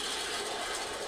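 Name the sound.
machine gun elevation unit rotating and ratcheting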